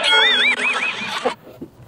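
A horse whinnies loudly and close, a wavering high neigh lasting about a second, then fading into quieter snorts.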